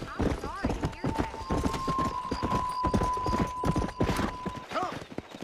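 A galloping horse in the video game Red Dead Redemption 2 beats out quick, rhythmic hoof clops throughout, close and fairly loud, with a faint steady tone and soft vocal sounds mixed in.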